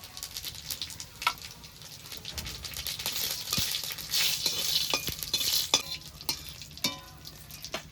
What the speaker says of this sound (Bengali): তেলটা গরম হয়ে গেছে এবার ফোড়নে দিয়ে দেবো একটা তেজপাতা দুটো শুকনো লঙ্কা কটা গোটা জিরে